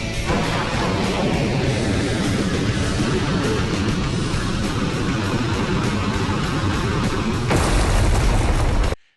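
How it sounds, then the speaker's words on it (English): BrahMos missiles launching from stealth frigates produce a sustained, loud roaring blast with rumbling booms that swell near the end before cutting off abruptly. "a second wave of BrahMos missiles launches from stealth frigates"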